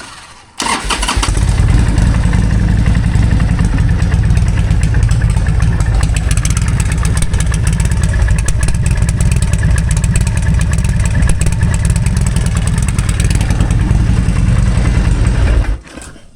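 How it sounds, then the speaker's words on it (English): Harley Sportster motorcycle fitted with a Hammer 1275 kit starts up abruptly and idles loud and close with a deep, lumpy, uneven throb for about fifteen seconds before cutting off. "What would a Harley video be without hearing the thing run for at least a minute?"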